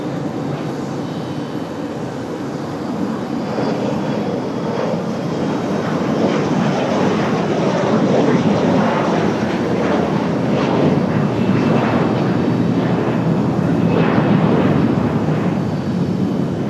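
An airliner on approach to runway 23 left at Raleigh-Durham airport, with a wind shear alert in effect, gives a steady broadband jet roar that swells gradually and holds loud, moderately near, with no voices.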